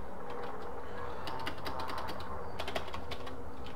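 Computer keyboard keys are pressed during play of Quantum Break, quick clicky taps arriving in small bursts with short pauses between, close but fairly quiet over a steady hum.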